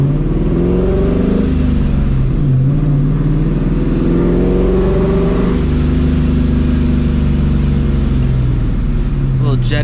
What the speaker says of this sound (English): I love hearing the blower.